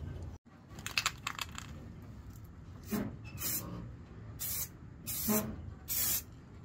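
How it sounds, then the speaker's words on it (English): Hobby Lobby Ogre spray paint goes onto a 3D print indoors in several hissing bursts, each lasting about half a second to a second, loud and close, with a few clicks and handling noises between. "Spray paint from Hobby Lobby. It's called Ogre."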